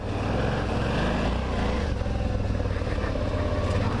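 A Suzuki V-Strom motorcycle engine roars under steady throttle while riding off-road over loose rocks, loud and continuous with a rough, droning growl that holds near throughout.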